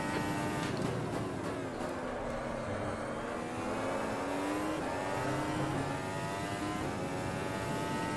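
Race car engine in an auto racing video game, Formula Ultimate open-wheel car at the Montreal circuit, a steady loud high-pitched whine rising and falling through gear changes, heard alone throughout.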